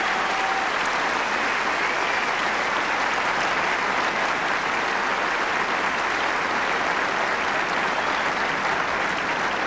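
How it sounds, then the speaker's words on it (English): Steady, dense applause from a tennis crowd after a women's singles win at the 1995 Canadian championships, loud and unbroken throughout. "A very warm round of applause for Monica Seles."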